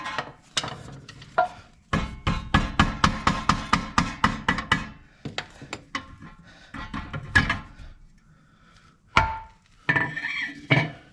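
A mallet strikes a screwdriver in a quick run of sharp, evenly spaced knocks up close, then slows to scattered single hits with pauses between them, with no talking.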